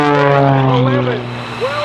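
A propeller aerobatic airplane at an air show drones overhead during a backwards somersault, a strong harmonic engine note sliding in pitch as the plane turns, with an announcer talking over it.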